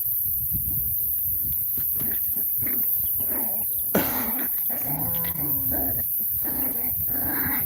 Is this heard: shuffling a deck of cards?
no